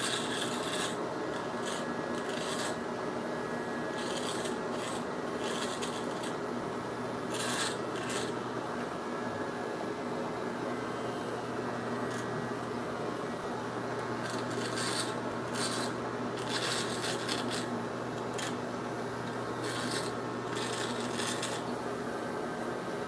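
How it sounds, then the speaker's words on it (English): A hair trimmer works along the neckline in short repeated passes, a soft rasping buzz over a steady motor hum that rises and falls in brief bursts, close and fairly quiet with no talking. "It never takes me long to trim the neckline."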